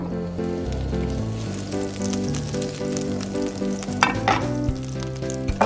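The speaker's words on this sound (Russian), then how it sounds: "Бросаем кусочек масла на разогретую сковородку." Butter sizzles and crackles in a hot frying pan, a continuous close frying hiss with a few sharper pops near the end, no voices.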